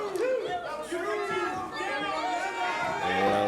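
Crowd at a wrestling match murmurs and chatters steadily beneath live commentary, a busy hall of voices with rising reactions toward the end.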